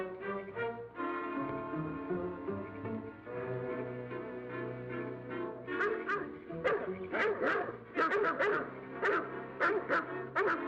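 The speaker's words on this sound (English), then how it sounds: "Hear those dogs?" Dogs bark and yelp in quick irregular bursts over a swelling orchestral film score from a 1939 mystery movie, with whimpering notes among the sharper barks toward the end.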